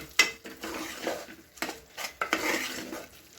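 Curry leaves and tempering being stirred into a green gram stir-fry, giving a few sharp utensil scrapes and clinks against the pan with a soft sizzle between, close and with no talk.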